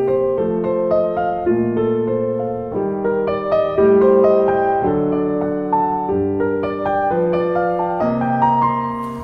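A solo jazz piano plays chord exercises, moving through clear sustained voicings in a steady rhythm, each chord ringing before the next, with no talking.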